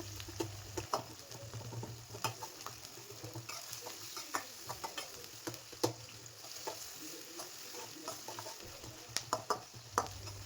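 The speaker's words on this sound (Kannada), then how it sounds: "ಆ ಈರುಳ್ಳಿ ಹಾಕೋತಾ ಇದ್ದೀನಿ. 2 ಈರುಳ್ಳಿ ಫ್ರೈ ಮಾಡ್ಕೋಬೇಕು ಎಣ್ಣೆಲಿ ಚೆನ್ನಾಗಿ." Chopped onions frying in hot oil for egg rice, a steady close sizzle with scattered crackles and stirring clicks throughout, no talking.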